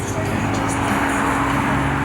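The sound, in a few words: another Toyota Supra car driving away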